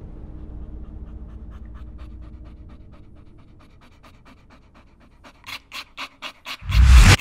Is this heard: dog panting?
yes